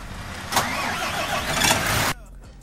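A bus engine starts in the Euro Truck Simulator 2 game, cranking with a loud burst and then running in a steady rumbling roar for about a second and a half before it abruptly cuts off.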